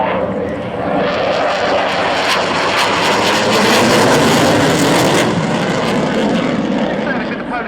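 A MiG-29 fighter jet of the Polish Air Force roaring overhead during an air display at Yeovilton Air Day, a loud broad jet rumble swelling and fading as it passes, with a commentator talking over it.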